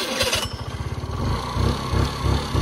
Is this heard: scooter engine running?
yes